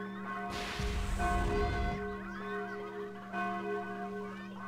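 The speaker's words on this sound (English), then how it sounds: "Hey, Tal, the alarm bells are ringing" Alarm bells in the fantasy game Sudeki ringing out, repeated resonant strikes with long ringing tails, fairly loud over a brief rustling crash and game ambience.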